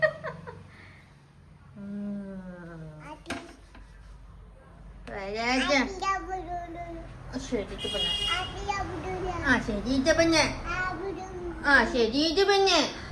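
A toddler girl babbling in her own made-up language, a high, sing-song stream of baby syllables that starts sparse and grows busier and louder, close by in a home.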